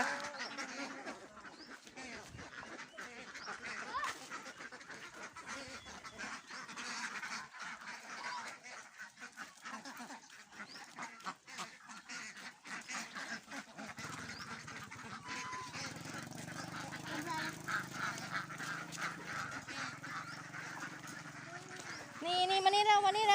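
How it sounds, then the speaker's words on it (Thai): Ducklings quacking and honking in rapid, busy bursts close by at a farm in Uttaradit, Thailand, continuing steadily with a few voices talking now and then. "ลูกเป็ด เขาเรียกว่าลูกเป็ดค่ะ"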